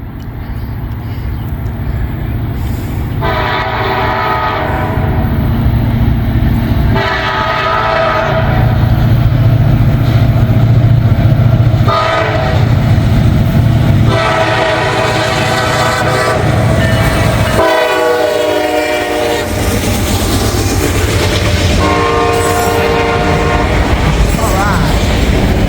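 A train passes close by on the line, a loud continuous rumble with repeated long horn blasts sounding through the middle of the pass, ending in clattering wheel noise.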